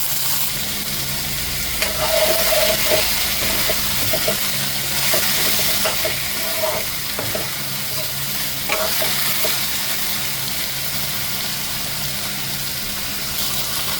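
Taro stolons fry in a pan with onions already browned golden in oil, a steady sizzle with occasional clacks and scrapes of stirring, no talking.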